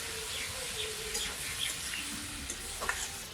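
A ground spice paste of onion, garlic and green chili with turmeric, chili powder and salt is stirred in a pan for small fish curry, making a faint scrape and sizzle while birds chirp in the background.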